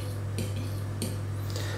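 A spoon stirring couscous in a bowl just after boiling water from a kettle has been poured in, giving a few light scraping clinks against the bowl over a steady low background hum.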